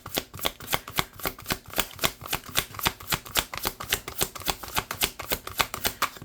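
A deck of cards is shuffled close up in a fast run of crisp riffling bursts, steady and repetitive, with no voices over it.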